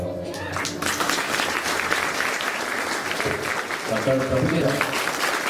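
A crowd claps steadily in sustained applause at a village felicitation ceremony, with a voice speaking over it at moments.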